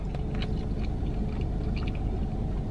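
A crunchy Taco Bell taco is chewed close to the mic, with a few crisp crunches over a steady low rumble of background noise.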